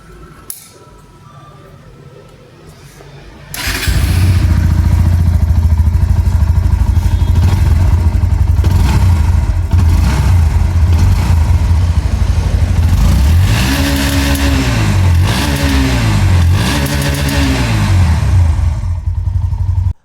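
A 2026 Bajaj Pulsar NS125 motorcycle with a 125cc engine and underbelly exhaust starts up loudly after a quiet moment, then idles and is revved repeatedly, with rising and falling engine sweeps close by.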